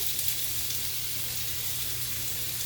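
Onions frying in oil in a pan, a steady close sizzle with a hissing, watery texture that holds evenly throughout, with no talking.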